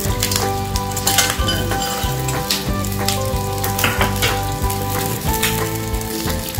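Grilled pork ear sizzling in a pan while sisig is cooked, a steady crackling fry with occasional utensil clinks and scraping against the pan.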